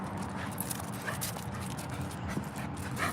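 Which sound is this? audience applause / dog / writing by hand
dog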